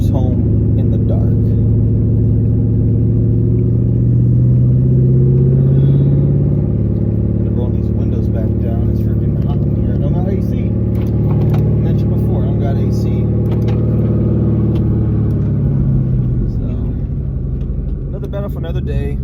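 A built, cammed 2001 Ford Mustang GT cruises at night, its engine a steady deep rumble from inside the car, swelling slightly as it accelerates, with a voice talking over it throughout.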